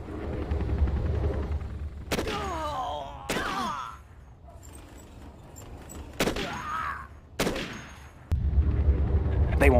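Gunfire and tank combat in the real-time strategy game Command & Conquer Generals Zero Hour, with a steady low battle rumble broken by several sharp bursts of shots and crackling impacts, loud and continuous.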